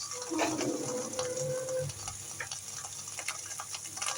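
Spices with ginger-garlic paste and cumin paste fry in a pan, giving a steady crackling sizzle with scraping stirs and small ticking pops. A faint voice is heard briefly near the start, and the sizzling continues on its own.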